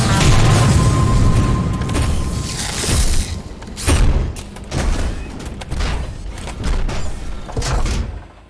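A big explosion in a video game, a loud broadband blast that fills the opening seconds, then trailing rumbles and crackling debris bursts that gradually fade over several seconds.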